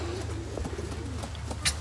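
A Grizzle racing pigeon, a long-distance race winner, coos softly in repeated low, throaty pulses, with a few faint chirps and small background noises.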